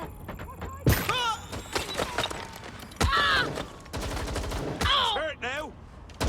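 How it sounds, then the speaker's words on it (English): Gunfire in Watch Dogs Legion comes in repeated loud bursts and single cracks, mixed with shouting voices and scattered thuds across a tense shootout. "Shots fired!"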